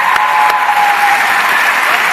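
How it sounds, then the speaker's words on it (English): An audience at a Turning Point event at the University of Georgia breaks into loud, dense applause, a continuous clatter of many hands clapping close and full throughout. "So I want to give him a big round of applause."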